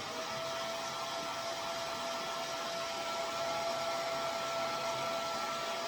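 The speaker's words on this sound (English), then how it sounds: "I'm going to keep the hair blower on there" A hair dryer blows over the leather interior of a BMW E46 M3, a steady, close whirring hum with a fixed tone that continues without a break and with no talking.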